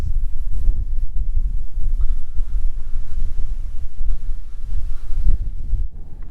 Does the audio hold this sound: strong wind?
yes